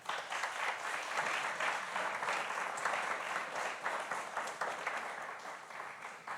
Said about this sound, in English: Please, a big clap for them.